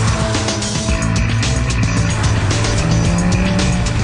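Porsche 911 GT3 of the 997 generation driven hard on a race track, its engine roaring steadily while tires squeal and scrub through corners, loud and continuous with no pauses.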